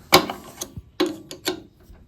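Small metal clicks and taps come from a little spanner undoing bolts on the blade assembly of a Titan TTB579PLN planer thicknesser, several close, crisp ticks at uneven intervals with no speech.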